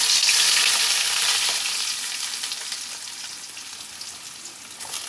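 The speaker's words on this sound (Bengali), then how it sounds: "এখন এই যে পেঁয়াজ দিয়ে দিলাম।" Onions frying in a home kitchen pan, a loud dense crackling sizzle that starts strong and slowly settles, heard close with no talking.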